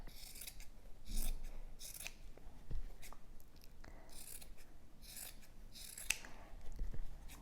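Scissors make repeated snipping and rasping cuts while trimming a small stitched fabric heart made from tiny scraps, with several crisp snips spread across a quiet close-up setting.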